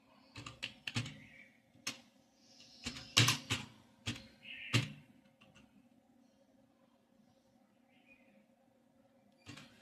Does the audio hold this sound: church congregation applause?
no